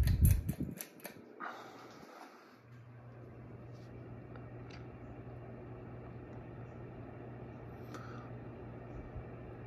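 An Encon Crusader 30-inch ceiling fan runs on high speed with a slight wobble. A few clattering handling noises come first, then a steady, fairly quiet droning hum continues.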